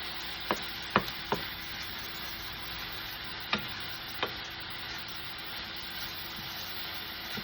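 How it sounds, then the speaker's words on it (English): Sweet banana peppers and onions sauté in a pan with a steady, soft sizzle. A few sharp clicks of stirring against the pan stand out near the start and middle. "these are cooking pretty good. I've got to get those peppers and those onions cooked down just a tiny bit"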